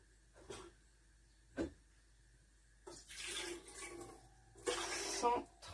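Water pours into a bowl set on a kitchen scale while soap is being made, two short splashy bursts after a few light clicks, close and alone.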